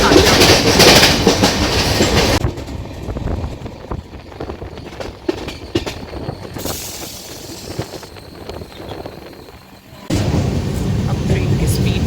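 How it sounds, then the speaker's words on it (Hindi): A moving passenger train rumbles loudly from inside the carriage, a dense roar with rattling that dips in the middle and swells again near the end, as if passing through a tunnel or over a bridge. "अब ट्रेन की स्पीड बढ़ी है, बढ़ा दिया भैया आपने।"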